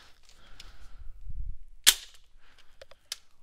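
A modified Nerf Retaliator blaster fitted with a Retaliator / Recon MK II hybrid core fires a dart: a low mechanical clunk from the priming, then one sharp, loud snap, followed by faint clicks and a brief high tick.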